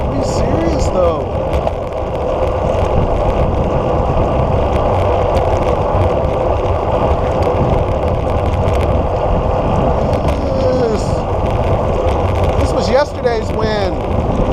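Wind buffets the microphone of a cyclist out riding, a steady loud roaring rumble that never lets up, with a voice talking over it.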